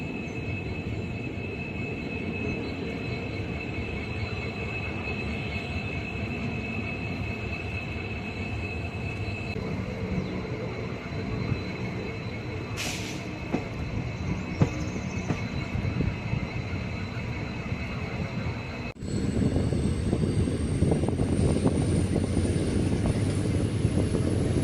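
Passenger train running along the line near Chikkamagaluru, a steady rolling rumble of wheels and carriages with a thin high squeal, growing louder and rougher partway through as the ride intensifies, heard from on board with no talk.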